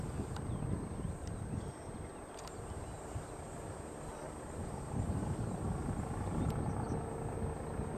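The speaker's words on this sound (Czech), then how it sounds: "A to je civilní policejní vrtulník." A civilian police helicopter flies at a distance, its faint steady rotor drone running throughout over quiet outdoor ambience, growing a little stronger toward the end.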